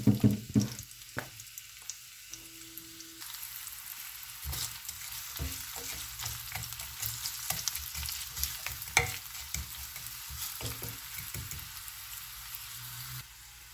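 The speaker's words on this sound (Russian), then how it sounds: "Пока лук будет жариться," Chopped onion frying in sunflower oil in a heated pan, a steady close sizzle broken by scraping stirs and clatters from a utensil, with no talk.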